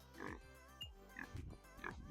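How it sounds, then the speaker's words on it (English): Pigs out in the snow on a cold farm give three separate snuffling grunts, each short and fairly close, spaced under a second apart and fairly quiet overall. "Got our pigs out here. They've not really liked the cold too much."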